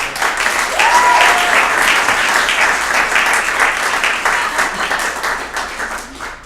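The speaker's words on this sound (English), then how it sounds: "Give her a round of applause" Steady, full applause from a live audience greeting a guest as she is called up on stage, dense clapping sustained for several seconds and slowly thinning toward the end.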